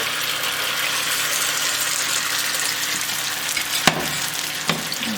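Marinated shrimp fry in hot olive oil over medium-high heat, giving a loud, continuous close-up sizzle with a couple of brief clatters near the end.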